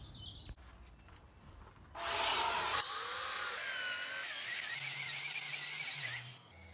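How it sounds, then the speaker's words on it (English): A belt sander grinds against the curved edge of a wooden roof box template, starting with a quiet knock then rising into a loud, continuous high-pitched rasping whine for several seconds before winding down. "the belt sander is actually making a really good job of smoothing out the curves"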